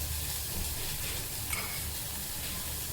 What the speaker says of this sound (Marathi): ह्या तुपात फ्राय करून घ्यायचं आहे. हे चांगलं फ्राय झालं बारीक गॅसवरती